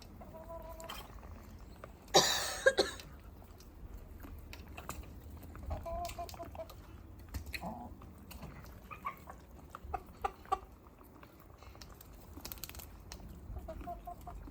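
Roosters cluck intermittently in a farmyard, with a louder burst of flapping or squawking early on and soft background noise throughout.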